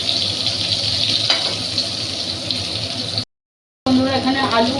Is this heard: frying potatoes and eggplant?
yes